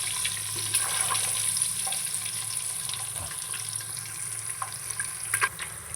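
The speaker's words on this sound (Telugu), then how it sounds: "ఉడకబెట్టుకుని పక్కన పెట్టుకున్న ఎగ్స్ అయితే దీనిలో వేసి అయితే వేయించుకుంటున్నాను" Boiled eggs fry in oil in a pan with a faint, steady hiss and scattered soft crackles and pops, heard close up with no talking.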